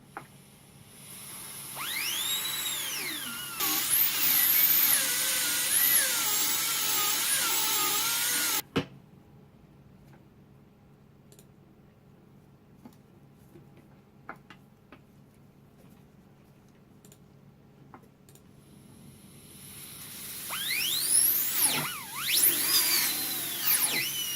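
A high-pitched dental drill trims the excess composite from a Class 4 restoration, whining in short bursts at the start, falling silent through a long quiet middle, then returning near the end.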